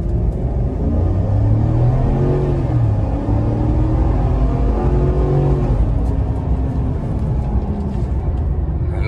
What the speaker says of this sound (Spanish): ¿Cómo acelera la Silverado V8